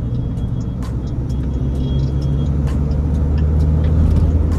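A Mahindra XUV500 with freshly corrected wheel alignment cruises down a straight road, its cabin filled with a loud, steady rumble of engine and tyre noise and no talking.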